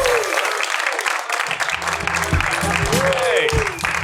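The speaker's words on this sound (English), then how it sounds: "Big round of applause for Kenyon, Adamcik." A comedy club crowd at the Laugh Factory in Chicago claps and cheers loudly and continuously, with a voice speaking over the applause.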